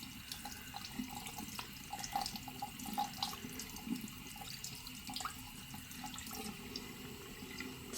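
Tap water runs steadily over a soft mochi squishy toy being washed with a little soap to remove pencil marks, a quiet, even splashing stream throughout with faint drips, no talking.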